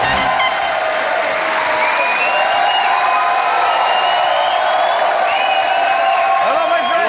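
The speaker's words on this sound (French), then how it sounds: "Je vous demande d'applaudir" A French TV studio audience applauds and cheers loudly as Craig David arrives, a dense unbroken wall of clapping and whoops with voices mixed in throughout.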